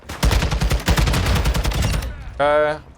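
Rapid bursts of gunfire from Call of Duty gameplay, dense overlapping shots for about two seconds, then a short bright ringing tone as the shooting stops.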